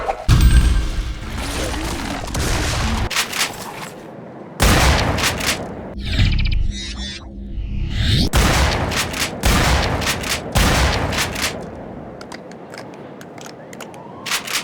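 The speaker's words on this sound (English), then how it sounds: "The Defender is a nice enough shotgun" The Defender shotgun in The Darkness 2 fires a series of loud, close blasts at irregular intervals, each a sharp booming report with a short tail, spaced by pump or reload clatter.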